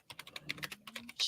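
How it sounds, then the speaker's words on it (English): Fingers type on a computer keyboard, a quick run of light close clicks in an irregular rhythm ending with a louder tap. "She's still typing."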